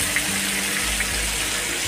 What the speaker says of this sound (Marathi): इथे आपलं तेल गरम झालेलं आहे, या मिरच्या तेलामध्ये टाकून घ्यायच्या।